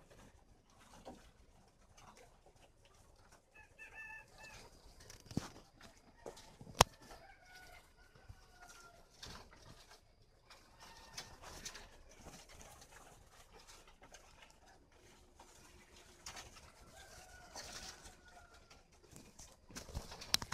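A tame male partridge calls in short, clear, intermittent bursts at moderate distance, set against a busy background of scattered knocks and rustling.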